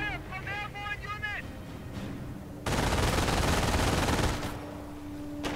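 Airborne infantry gunfire in the Company of Heroes strategy video game: a sudden loud burst of sustained rifle and machine-gun fire that cuts in after a tonal game sound and runs for a couple of seconds before easing off.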